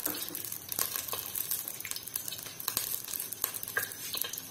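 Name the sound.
oil sizzling in a pot on a stove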